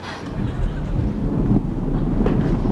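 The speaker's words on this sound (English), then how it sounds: "I think that's thunder." Deep, rolling thunder rumbles steadily for a few seconds, low and heavy with a broad wash of noise.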